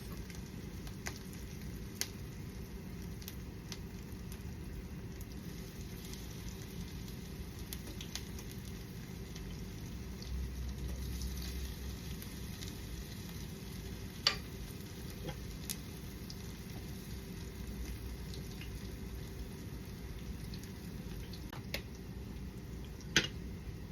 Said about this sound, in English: we're gonna scoop it into our oil to make our fritters